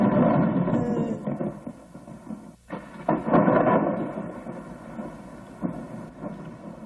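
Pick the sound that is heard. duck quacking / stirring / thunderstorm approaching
thunderstorm approaching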